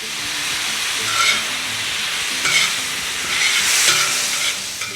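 White onion and celery frying in a pan for green chile stew, a steady close sizzle with soft hiss throughout and a few brief louder bursts as the vegetables shift, no voices.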